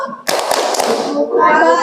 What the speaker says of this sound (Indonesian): Kita kasih tepuk buka tutup.